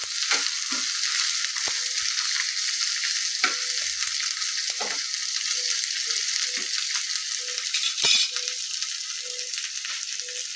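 Bottle gourd (lauki) sabzi with onion frying in a pan, a loud, steady sizzle that runs throughout, with occasional scrapes and clinks of a spoon stirring close by.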